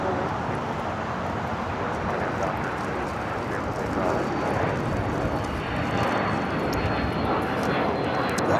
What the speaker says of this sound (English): Finnair taking off on the north side.